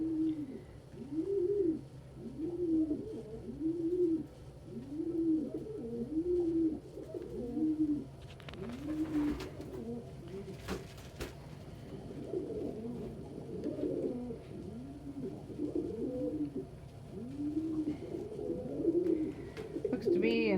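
Pigeons coo in repeated rhythmic phrases near a nest box where birds squabble over it. A voice speaks now and then beneath the steady cooing, and a few sharper clatters break in.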